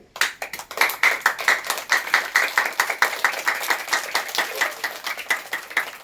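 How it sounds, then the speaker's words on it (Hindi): Rhythmic group hand clapping in a yoga class, loud sharp claps in a fast, steady beat that carries on for several seconds without voices. "सभी एक बार ताली बजाओ जोर से क्लैपिंग।"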